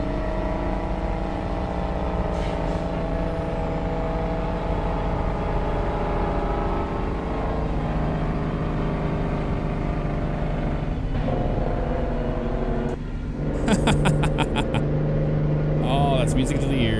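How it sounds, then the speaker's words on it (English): Truck engine in American Truck Simulator droning steadily under engine-brake load on a downhill into a tunnel, loud and continuous with a harsher rattling burst near the end, while someone talks over it throughout. "Gotta throw that Jake brake on in the tunnel a little bit."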